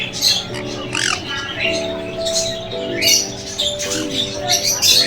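Parrots and mynas squawk and chirp repeatedly at an ashram in Bandel, with sharp calls close by over a tonal background and a voice now and then.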